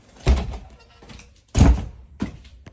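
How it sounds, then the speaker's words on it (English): A kitchen door is shut, giving two solid thuds about a second apart, each followed by a softer knock or rattle, close by and clear. "we're gonna close the door"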